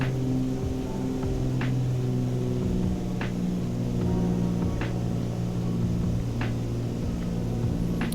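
A twin-engine Cessna 414 Chancellor drones in a VR flight simulator, a steady, loud cabin hum of layered engine tones with faint periodic clicks, unbroken and without any voices.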